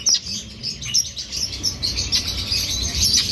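Red-rumped parrots, green opaline pairs, chirp in quick, bright bursts at a bird exhibition, close and lively with overlapping calls and no talk.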